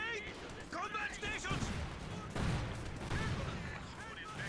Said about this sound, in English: And the cluster bombs killed the steward